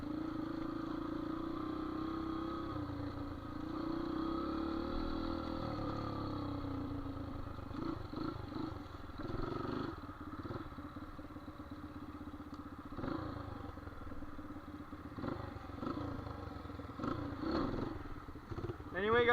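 A Yamaha TTR dirt bike engine revving and idling unevenly, a rough, fluctuating motor drone with clattering, under someone talking throughout.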